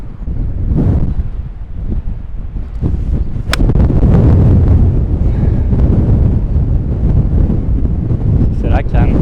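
Strong stormy wind blasts across a golf course, roaring steadily and loudly into the microphone as a continuous low rumble, with a brief sharp click partway through.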